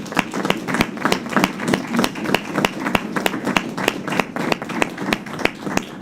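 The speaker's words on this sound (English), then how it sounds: "if we could give the students who came tonight a round of applause for coming out" A room full of people applauds students at a school board of education meeting, with a steady patter of many hands clapping at close range that holds evenly throughout, with no voices over it.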